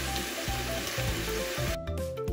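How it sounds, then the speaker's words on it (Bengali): Half a cup of oil with two and a half cups of chopped onion and a few bay leaves sizzling and frying in a pan, a dense, continuous crackle up close with some stirring near the end. "এগুলো কিছুক্ষণ নেড়ে পেঁয়াজটা নরম করে নেব।"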